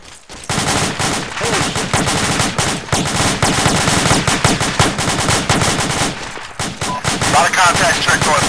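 Sustained machine gun tracer fire in Arma, loud dense bursts of automatic gunfire and overlapping shots running almost continuously, with brief lulls and faint voices in the background.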